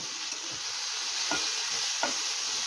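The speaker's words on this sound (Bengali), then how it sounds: "আলুটাকে খুব ভালো করে তেলের সাথে মিশিয়ে নেব" Potatoes stirred into hot oil in a pan for jhinge aloo posto give a soft, even hiss with three or four gentle scrapes of a spatula, fairly quiet and close, ending in a sudden sharp knock.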